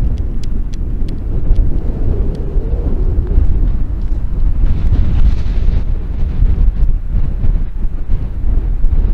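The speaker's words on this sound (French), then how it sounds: "il y a un vent terrible qui vient de se lever" Strong desert wind buffets the microphone in Death Valley, a loud, steady roar with rumbling gusts that never let up.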